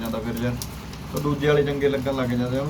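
Pigeons from a fancier's flock of five or six breeding pairs coo softly in the background while someone talks steadily over them.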